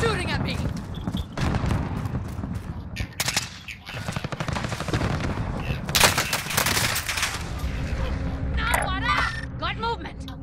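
Heavy automatic gunfire in Call of Duty: Modern Warfare Warzone, rapid rattling bursts and single loud shots from close and mid range for several seconds, mixed with game effects while people talk over it.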